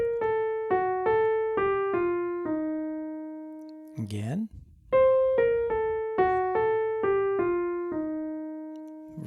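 Plucked jazz scale line over F dominant 7 with an enclosure around the 9th, two even runs of about seven notes each, separated by a short spoken word.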